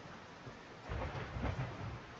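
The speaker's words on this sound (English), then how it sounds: "Thunder cracks periodically, and the darkening clouds out in the distance are quickly making their way towards you." Rain and rumbling thunder in a storm at sea, a steady wash of broadband noise that swells into a louder, deeper roll in the second half.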